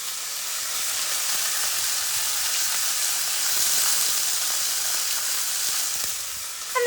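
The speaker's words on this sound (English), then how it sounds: "And they're just sizzling away." Chicken pieces browning in a pan for tomato and gingery coconut chicken, giving off a steady bright sizzle and hiss that holds evenly for several seconds at moderate loudness.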